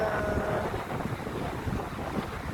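Wind rushes steadily across the microphone, a continuous broadband roar with low buffeting gusts and no voices.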